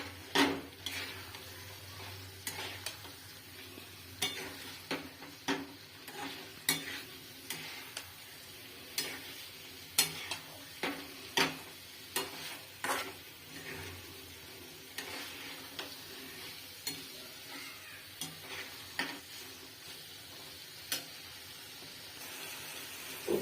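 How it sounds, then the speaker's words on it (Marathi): Green peas being stirred into a paneer curry in a pan with a spoon scraping and clicking against the metal in steady, repeated strokes over a faint sizzle, close by with no talking. "त्यानंतर मटर ॲड करूया। आणि सर्व हलवून घेऊया।"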